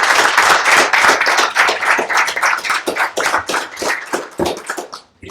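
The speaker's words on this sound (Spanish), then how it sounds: "un aplauso para los muchachos" An audience at a book presentation claps for the presenters, a lively burst of close, uneven hand claps that thins out and fades before stopping.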